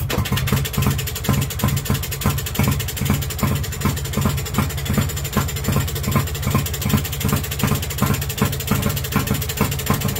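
A 1935 Villiers WX11 engine runs steadily, a close, loud, even mechanical chugging with a regular rapid beat throughout and no talking.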